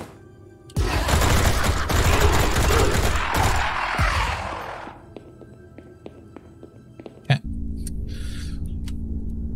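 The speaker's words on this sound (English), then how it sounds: "You gotta kill him with the shotgun" Loud shotgun blasts and heavy gunfire in the retro shooter Project Warlock 2, a dense barrage for several seconds that drops to sporadic thuds and one sharp boom near the end.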